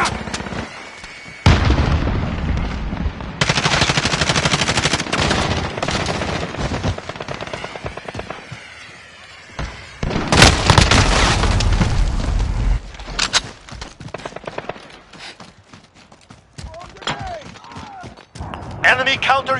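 Frag grenade blasts and bursts of automatic gunfire in the Modern Warfare (2019) multiplayer video game: loud, dense battle noise with two heavy booms and rapid firing, with game voices calling out over the action.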